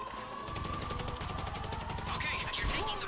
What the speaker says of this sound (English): Wow, I just got rapid fired.